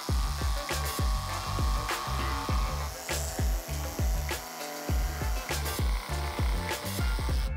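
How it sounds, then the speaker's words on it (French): A jigsaw cuts through wood in rapid repeated strokes, a steady buzzing rasp with rhythmic pulses, close and loud throughout. "Terminez avec la scie sauteuse."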